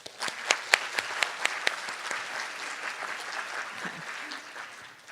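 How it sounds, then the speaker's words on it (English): An audience at a senior summit applauds the event sponsors, opening with a few sharp distinct claps that quickly blend into a softer, sustained round of applause from a moderately sized crowd. "please give them a round of applause"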